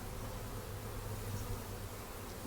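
Honey bees buzzing around an open hive during an inspection of a colony with capped honey, a steady, fairly faint low hum that continues without pause.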